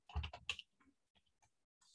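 A quick burst of typing on a computer keyboard, several close clicks clustered at the start, then a few sparse, faint keystrokes in near silence.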